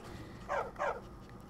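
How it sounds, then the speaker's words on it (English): A dog in the video game Skyrim gives two short, breathy bursts close together, mid-loud over a quiet game ambience with no talk. "Oh no, it's just a normal dog."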